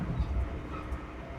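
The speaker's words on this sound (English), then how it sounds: "The rhythm of the train encourages this, the repetitive sound, the steady motion." A train rolls through snowy Scandinavian forest in winter, a steady low rumble with faint rhythmic wheel noise, continuous and fairly close, no voices.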